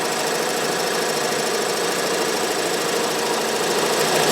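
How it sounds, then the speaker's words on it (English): An embroidery machine stitching the tack-down border around an applique runs in a continuous, even, rapid mechanical hum and patter, loud and close without pause. "Now it's going to do what we call the tack down or border stitch."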